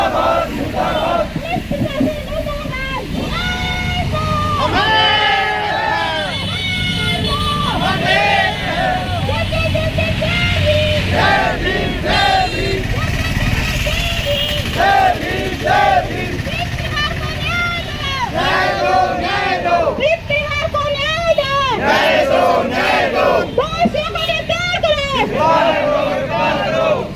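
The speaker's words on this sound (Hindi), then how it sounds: "एससी समाज रोड पर उतरा है पुलिस प्रशासन मुर्दाबाद के नारे लगाते हुए" A Bhim Army and SC community protest crowd on a road in Bhiwani chants slogans against the police administration, with loud, rhythmic shouts from many voices over steady crowd babble and street noise.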